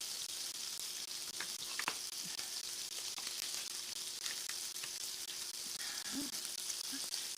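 A sous vide steak sears in a hot pan after being flipped, giving off a steady, close sizzle and crackle with occasional small pops throughout.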